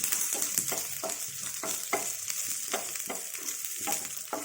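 Dried red chillies frying in oil in a pan for Telugu pachadi, a steady close sizzle with brief stirring scrapes throughout and no talk.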